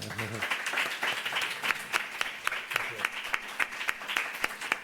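Audience members at a lecture on the Seri language of Mexico break into steady, sustained clapping, a dense wash of hands with a few sharper individual claps standing out.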